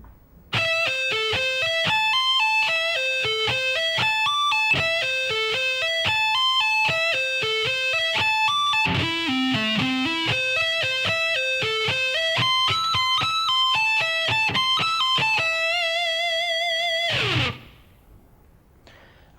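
Distorted electric guitar plays a fast lick, a steady run of quick picked notes climbing and falling across the high strings, loud and continuous, ending on a held note that cuts off abruptly near the end.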